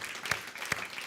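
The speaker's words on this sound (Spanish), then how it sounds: "Le damos un fuerte aplauso al Señor" A church congregation applauding, a brief burst of close, dense clapping with a couple of sharper claps standing out.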